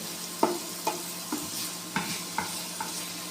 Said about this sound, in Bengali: নাড়াচাড়ার মধ্যে থাকতে হবে। নাড়াচাড়া না দিলে পেস্টটা কিন্তু একখানে লেগে যেয়ে সেটা কিন্তু পুড়ে যাবে